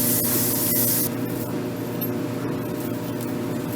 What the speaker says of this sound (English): I'm going to give it a good spray